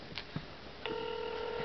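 A telephone places a call: a few short dialing blips, then a steady electronic tone that holds clearly to the end.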